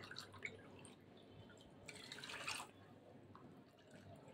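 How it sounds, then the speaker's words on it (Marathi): Water poured from a measuring cup into lentils in a pot for cooking, a soft, faint trickle and splash, with a brief fuller gush partway through, quiet and close, no talking. "मी याच्यामध्ये 3 कप पाणी घालत आहे"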